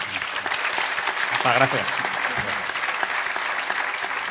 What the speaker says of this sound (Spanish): un fuerte aplauso, ¿no?, a todos ellos